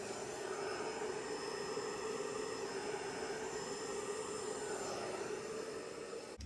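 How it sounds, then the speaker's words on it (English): A hairdryer blows steadily on acrylic pour paint with a constant whooshing roar and motor whine, close and loud throughout, with no talking. "Just need to blow it a little bit with the hairdryer just to give it that softer edge."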